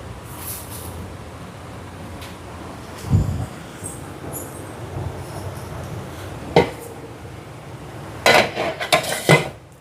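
Puttu flour mixed with coconut being loaded into a metal puttu steamer pot, with scattered clinks and knocks of metal utensils, a cluster of clattering taps near the end, no talking.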